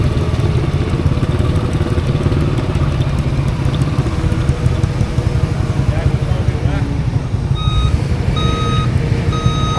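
A large truck idles with a rumbling engine while its reversing alarm starts up partway through, sending out a steady, evenly spaced series of high beeps; a person speaks over the engine noise.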